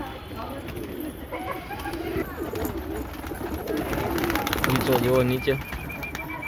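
Pet pigeons coo softly in low, rolling bursts near the birds' loft, while someone talks in Gujarati over them; a few brief flutters or scuffs mix in.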